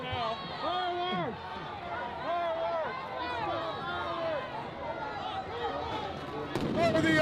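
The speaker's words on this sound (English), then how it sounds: "Nope, that's a flashbang." A flashbang grenade is fired into a protest crowd on the 101 freeway, a single sharp bang that bursts out near the end over dense shouting and chatter from the crowd.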